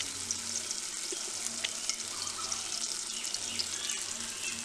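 Garlic paste and chilli powder sizzling steadily in hot oil in a pan, a continuous close frying hiss with faint scraping, and no talk.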